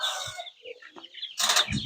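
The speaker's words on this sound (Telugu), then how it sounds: "చాలా డిఫరెంట్ టైప్స్ ఆఫ్ పుంజులు ఉన్నాయి" Chickens and roosters on a farmhouse flock with young chicks, giving a few short clucks and squawks close by, ending in a burst of flapping and agitated noise, with no talk.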